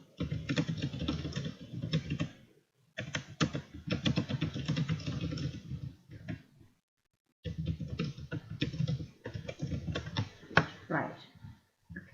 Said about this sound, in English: You're typing now, no?